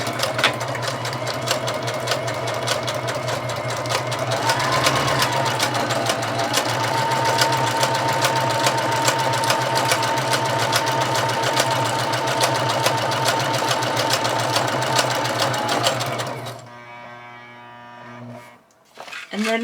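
Sewing machine running steadily as it stitches a decorative trim around a junk journal page, a loud, close, even mechanical whir with rapid needle ticking that stops near the end, followed by a few faint handling knocks.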